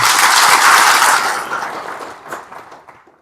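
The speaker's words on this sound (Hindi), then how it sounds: "सो सबके लिए एक जोरदार ताली होनी चाहिए।" An audience bursts into loud, dense applause right away, then the clapping gradually thins and fades over a few seconds.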